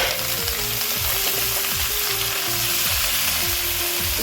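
Finely chopped spinach fries for palakura curry, giving a dense, even sizzle that holds without pause. A faint stepped hum runs underneath and no voices are heard.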